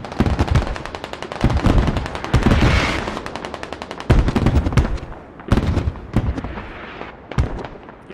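Gunfire in the video game Squad: rapid automatic bursts in several sustained volleys with short gaps, loud and close, with crackling sharp reports throughout.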